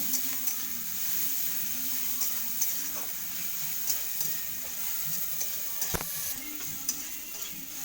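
Food fries in a pan with only a little oil, making a quiet steady sizzle broken by light scraping taps of a stirring spoon, close by and without speech.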